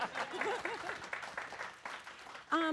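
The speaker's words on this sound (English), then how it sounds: "you can give her a clap" A brief burst of audience applause mixed with voices, cut off as a person starts speaking clearly at the end.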